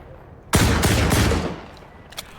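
A shotgun fires in the video game Stalker 2, a weapon resembling a compact Saiga, as a loud sudden blast followed by a few quick rapid reports that decay into a fading tail, with a faint click afterward.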